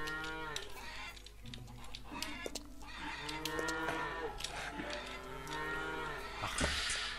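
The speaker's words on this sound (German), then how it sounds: "Da, Kuh im Weg." A cow in the video game Lumberjack's Dynasty moos repeatedly in long, drawn-out lowing calls, close and clear over a steady low background hum.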